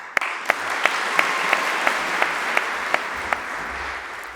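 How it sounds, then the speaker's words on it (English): Applause from a welcome-ceremony audience, a steady patter of many hands with a few sharp louder claps standing out at regular intervals, sustained and fairly even throughout. "Please join me in a round of applause for their efforts"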